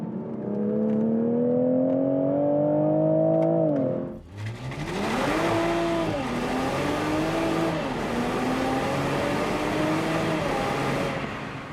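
A 2022 Toyota GR Supra 3.0 pulls hard through a rising rev before a sharp drop at an upshift, then the engine and exhaust climb again through several more rising pulls, loud and close, over strong road and wind noise.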